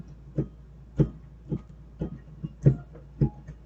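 Keyboard struck harshly without finger-extension technique, about seven separate thumping notes at a slow, uneven pace, fairly quiet and close, with nothing else audible.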